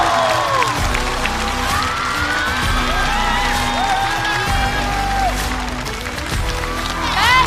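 A stand-up comedy show audience claps, cheers and whoops as a team is welcomed onto the stage, a dense, loud wall of crowd noise with voices calling out over it throughout.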